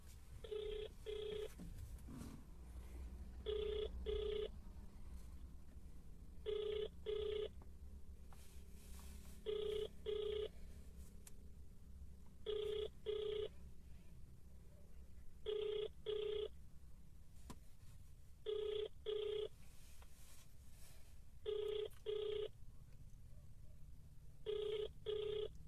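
Telephone ringing unanswered on a call to a social worker, the repeated double-burst ring cycling steadily about every three seconds for nearly half a minute, moderately loud over a faint background hum with no voice picking up.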